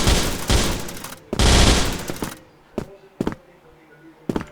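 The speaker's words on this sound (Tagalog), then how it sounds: "Ibang Gatling gun yan ah." Gatling gun fired in an online first-person shooter clan war, heard as dense sustained bursts of rapid fire in the first half, then a few sharp isolated shots spaced apart.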